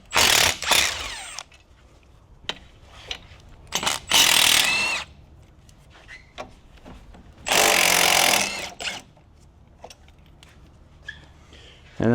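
A power tool undoes 12 mm bolts holding the front brake caliper lines on an Infiniti G35/G37, running in several short loud whirring bursts close by, separated by quiet gaps with light clicks and handling noises.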